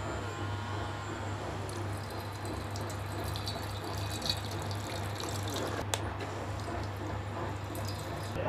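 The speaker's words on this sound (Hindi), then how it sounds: "अब मोटर कितना बढ़िया पानी फेंक रही है।" Water pours and splashes steadily from a small homemade electric water pump motor, a continuous close trickling spray with a low motor hum running beneath it and no talking.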